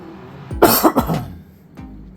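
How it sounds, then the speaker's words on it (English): A single person coughs sharply a few times in a short burst, close to the microphone, with brief quiet before and after. "First, I gotta cough real quick."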